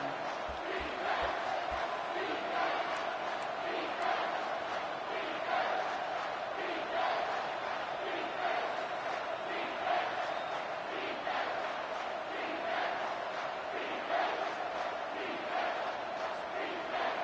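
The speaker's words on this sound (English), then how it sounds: "The crowd is going to tell you the result of this one. They are into it on this huge 3rd and 3." Football stadium crowd roars continuously on a big third-and-3 play, a dense sustained wall of cheering and yelling that stays loud and steady throughout.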